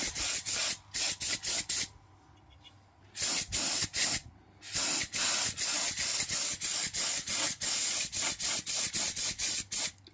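An airbrush sprays olive drab paint onto a Tamiya FAV model kit in short, even hissing bursts with brief pauses between them, close and steady throughout.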